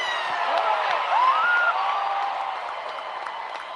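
A festival crowd at a national chamamé music event applauds loudly and steadily, with cheering and a few high whistles rising over the clapping, close and full throughout.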